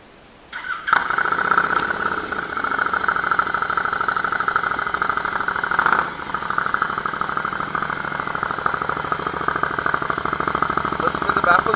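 Royal Enfield Interceptor 650 motorcycle with a loud aftermarket exhaust firing up, then idling with a rapid, lumpy, throbbing burble close by, a brief blip partway through.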